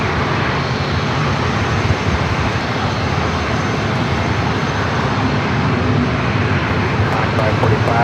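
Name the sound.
Challenger business jet taking off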